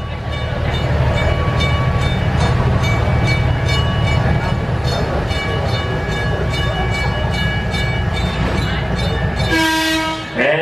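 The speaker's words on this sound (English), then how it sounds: "And there's the whistle." A heritage village excursion train coming to a stop sounds a loud whistle near the end, over a steady rumble and clatter of rail cars, with sustained steam-whistle tones standing out above the running noise.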